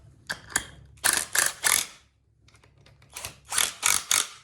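An impact driver with a socket adapter drives bolts into the mid frame of a DIY motion simulator platform. It gives short, loud rattling bursts in two groups with a quiet pause between them.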